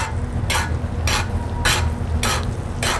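Flounder pan-fried in plenty of butter gives a soft, steady sizzle, broken by five evenly spaced swishing bursts as hot butter is spooned over the fish; no one speaks.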